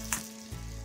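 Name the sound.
water poured into hot kadai with ghee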